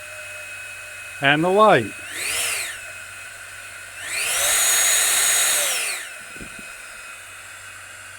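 Tawugame cordless brushless 750W leaf blower kicked into turbo: short revving bursts, then a sustained rising-and-falling whoosh of motor and airflow, fairly close, with someone talking briefly beforehand.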